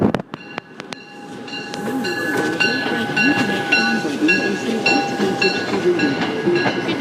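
An MBTA train hauled by a new EMD locomotive passes North Station with a loud, continuous rumble, steady tonal whine and ringing, and scattered clanks and squeals from the wheels, close and sustained.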